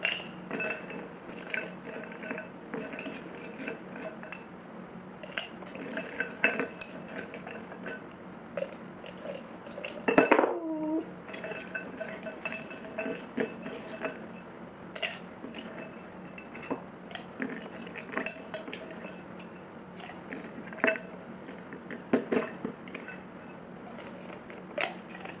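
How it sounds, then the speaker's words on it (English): Ice cubes clink and clatter as they are dropped into a bottle while making an avocado shake, with scattered light glassy taps and knocks throughout and one louder rattling cluster midway. "add the ice cube until bottle is full."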